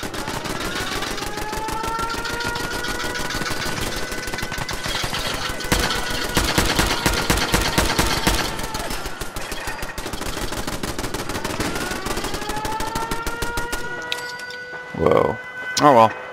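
Gunfire from attacking gunners in Fallout 4 at the Red Rocket Truck Stop, dense bursts of automatic shots mixed into a steady, loud game soundscape with tonal music-like hum, the shooting clustered and most intense in the middle.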